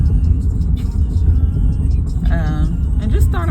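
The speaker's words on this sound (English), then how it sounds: "Another car ride." Steady engine rumble and road noise fill the cabin during a car ride, with a voice talking over the continuous low drone.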